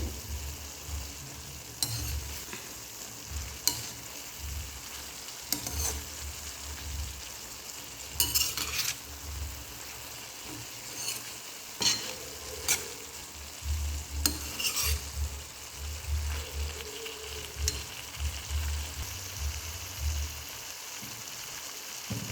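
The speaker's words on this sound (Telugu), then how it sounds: "మనం మధ్య మధ్యలో వంకాయ ముక్కలు అయితే కలుపుకుంటూ ఉండాలి." Brinjal pieces frying in a pan and stirred now and then, a steady close sizzle broken by repeated bursts of spoon scraping against the pan over about twenty seconds, no speech.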